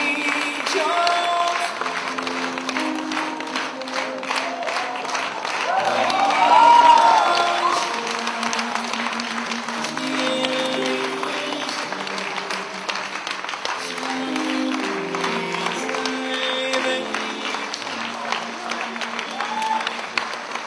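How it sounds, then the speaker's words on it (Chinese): Media and guests applaud at a Le Vision Pictures press event in Beijing where director Zhang Yimou signs on. Sustained crowd clapping runs throughout, mixed with voices and a brief swell near the middle. "现场媒体和嘉宾响起掌声"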